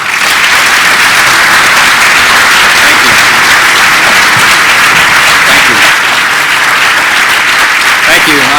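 A large audience breaks into sustained, loud, even applause as it welcomes U.S. Senator Marco Rubio, the dense clapping filling the whole stretch without a break.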